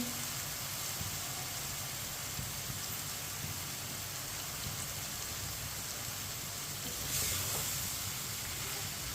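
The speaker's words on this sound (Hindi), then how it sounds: "इसी तरह चम्मच चलाते हुए फ्राई कर लेंगे।" Tinda (round gourd) pieces sizzle and crackle steadily in a pan while being stirred with a spoon over lowered heat, a continuous hissing bed with no talking.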